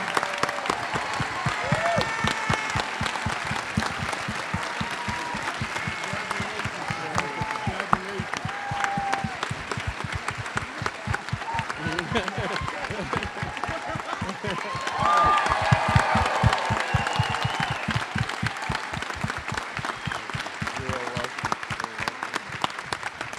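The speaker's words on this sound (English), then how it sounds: "Big round of applause for them once again." Audience at the 2023 SEED20 Social Venture Partners live event applauds the grand prize winner: dense, sustained clapping from a large crowd fills the room for over twenty seconds, swelling briefly louder partway through.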